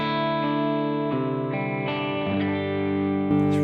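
A Gibson Les Paul played clean through a Marshall JCM 900 amp gives a few sustained chords and notes changing every half second or so, ringing with light grit, with no talking.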